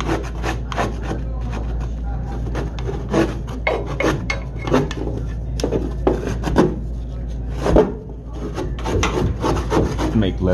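Flat spatula scraping grime off the surfaces of a walk-in cooler coil, heard as a run of close, repeated rasping strokes over a steady low machinery hum.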